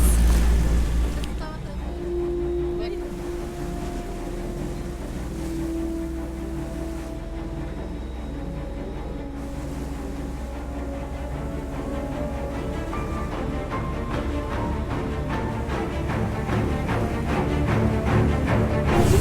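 A boat engine drones steadily at full power near rocks and waves, with broadband wash of water and wind noise throughout; low rumble dominates, continuous and loud.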